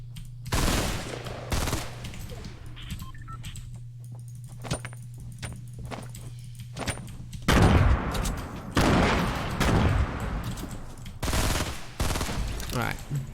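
Gunfire in a Fortnite fight, with bursts of shots in clusters across the stretch, loudest toward the end, mixed with game clatter and footsteps.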